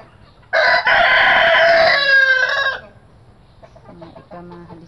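A Rhode Island Red rooster crows once, loud and close, a strained two-part cock-a-doodle-doo lasting about two seconds, followed by softer clucking from nearby fowl.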